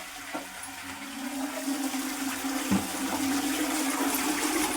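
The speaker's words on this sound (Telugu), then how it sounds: "ఇది వచ్చేసరికి మనకి ఫ్లష్ అవుట్." A household toilet flush box flushing in a bathroom, a steady rushing and gurgling of water that builds and holds strong and close throughout, with no one speaking.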